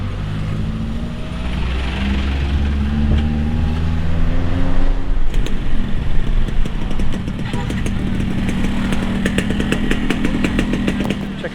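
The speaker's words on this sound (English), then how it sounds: "Check out this queue of scooters." A queue of scooters idles and revs at a remote fuel station in the morning, with a dense, rumbling mix of small engines rising and falling up close and sharp clicks and clatter over it.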